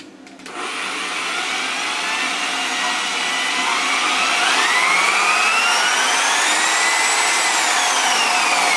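A Snap-on variable-speed car buffer whirs up from a click into a loud, steady high-pitched whine that rises in pitch as the trigger is squeezed further, heard close with no talking.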